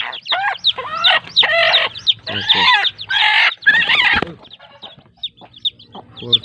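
A hen clucks loudly and close by among newly hatched chicks, her calls coming in busy, overlapping runs before trailing off into scattered softer peeps and clucks.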